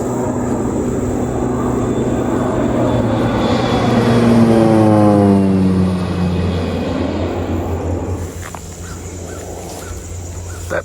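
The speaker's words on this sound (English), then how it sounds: "That plane just dropped something." An airplane passes overhead near a barn, a loud droning roar that swells to a peak with a falling pitch sweep, then fades as it moves away.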